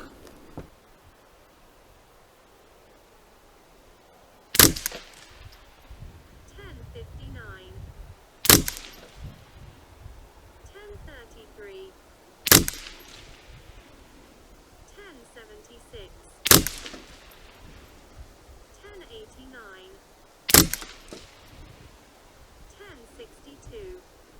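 An SK Biathlon .22LR rifle fires five sharp, loud shots at target practice, spaced about four seconds apart, with quieter handling noise between them.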